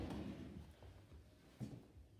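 A bathroom vanity drawer sliding open and shut, giving soft, muffled thuds and brief rumbles, faint and close, with no voices.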